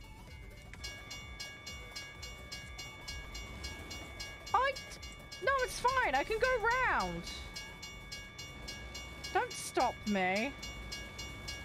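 A train in the American Truck Simulator video game gives a steady, droning tone that runs through the whole stretch, with someone talking loudly over it in bursts.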